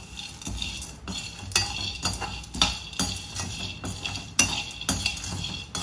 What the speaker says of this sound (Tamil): நான் வந்து ஒரு 5 நிமிஷமா வறுத்துட்டு இருக்கேன்.